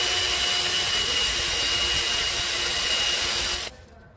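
Broken exhaust manifold bolt on a Volvo B7 double-decker bus engine being drilled out with a 5 mm bit, a loud steady power-drill whine running continuously and then cutting off abruptly near the end.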